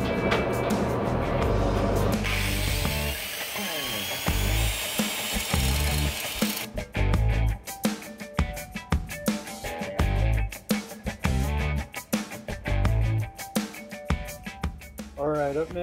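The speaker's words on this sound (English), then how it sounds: "Went and got the 9 inch grinding disc, so hopefully that'll be a little faster." An angle grinder fitted with a 9-inch grinding disc grinds down a 10.25-inch Sterling axle housing, a loud harsh continuous whine that breaks into repeated short bursts as the disc is pressed on and eased off.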